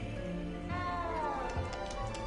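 A cat meows in the Hogwarts Legacy video game, a drawn-out cry rising and falling over steady game music and ambience, fairly close and clear.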